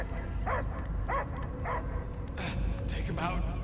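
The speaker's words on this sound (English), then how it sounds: "I hear only barking." Dog barking in the video game Marvel's Guardians of the Galaxy, a series of short yips and barks repeating every half second or so over a rumbling game soundscape.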